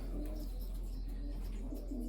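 Racing pigeons coo softly in a pigeon loft, a low steady murmur that runs through the whole stretch with faint bird calls above, no talking.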